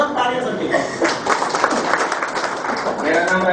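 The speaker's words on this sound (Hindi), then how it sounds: "जबरदस्त तालियां सर के" An audience applauds a speaker at a company gathering with continuous, fairly loud clapping from many people, mixed with voices throughout.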